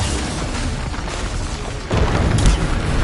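Bombarda spell blast in the Hogwarts Legacy video game, a heavy boom that hits near the end amid dense continuous combat noise, loud and close with a rumbling tail.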